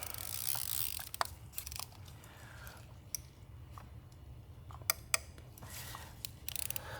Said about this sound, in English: And then I can attach my ratchet